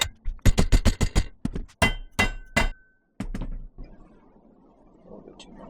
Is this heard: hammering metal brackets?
yes